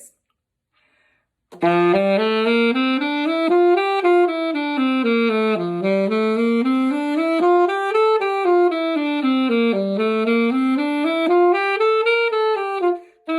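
Saxophone playing a scale pattern exercise, a continuous stepwise run of notes rising and falling in repeated waves, clear and close, heard alone after a short silence.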